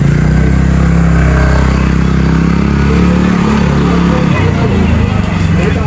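A motorcycle engine runs close by, a loud steady drone that shifts pitch as it revs, with faint clatter in the background.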